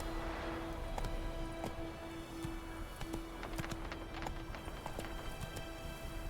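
Roach, the horse in the video game The Witcher 3, gallops with a steady rhythm of close hoofbeats that runs the whole way through over a constant background hum of game sound.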